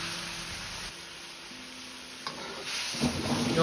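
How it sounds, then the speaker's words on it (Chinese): Liquid bubbling gently in a pan with a soft continuous sizzle, a ladle scraping and pushing a few times toward the end. "用勺子稍微推动几下，让豆腐都浸泡在汤汁中。"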